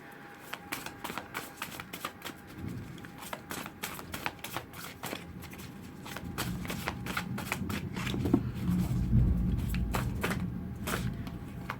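Tarot cards being shuffled by hand up close, a rapid series of crisp flicks and riffles that thickens into a denser, rustling shuffle midway through, with no talking.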